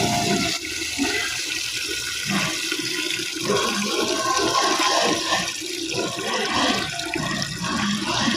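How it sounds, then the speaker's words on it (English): Water running steadily into a barrel as it is topped up, a continuous rushing, splashing pour with a broadband hiss that stays loud and close for the whole stretch, with no talk over it. "I'll top it up with more water"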